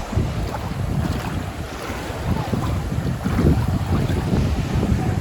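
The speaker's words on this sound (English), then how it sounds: "It's a good sized wave pool too." Wave pool at Blizzard Beach water park, Walt Disney World, with steady churning water and surf noise, rolling surges and wind buffeting the microphone throughout, loud and continuous with no talk.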